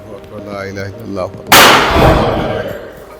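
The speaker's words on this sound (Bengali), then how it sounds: "মাথার মধ্যে গুলি করে দেওয়ার পরেই গরুটা বেহুশ হয়ে যাবে" A gunshot to the head stuns a cow for Eid al-Adha Qurbani slaughter on a farm in America: a single loud, sharp crack that booms and decays over about a second, following a few moments of voices.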